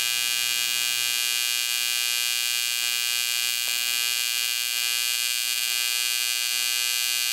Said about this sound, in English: Welding with that high frequency, 120 hertz, you will notice a much higher pitch sound.